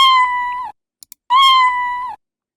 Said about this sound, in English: which is meow.